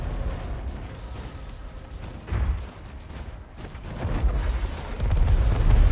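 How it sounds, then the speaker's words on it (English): Fowler heavy weapon firing in the War Robots video game, loud deep booming bursts and rumbling impacts that swell in two heavier waves toward the end, close and dense with no talking. "When you're super close with the Fowler, you can just tap the firing button."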